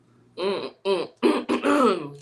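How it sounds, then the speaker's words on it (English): A person clears their throat with a few rough, voiced rasps in short bursts, close to the mic. "Let me clear my throat"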